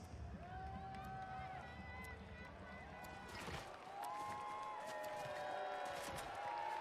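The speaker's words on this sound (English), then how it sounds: "Here, the crowd" A crowd cheers and roars at the Fortnite FNCS Global Championship 2024, a continuous swell of arena noise heard faintly under steady commentary, with tonal game sounds mixed in.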